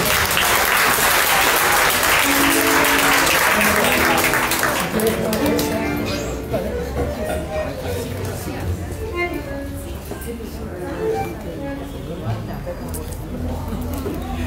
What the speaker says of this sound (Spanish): fuerte el aplauso para el cuarteto Murenga